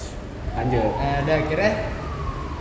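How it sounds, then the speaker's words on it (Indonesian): An ambulance siren passes by outdoors, its wailing tone rising and falling at moderate distance under ongoing traffic noise while someone speaks over it. "Bentar ya guys, ada ambulan Lewat."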